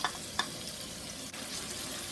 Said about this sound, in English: we're going to let the green onions fry for about 5 minutes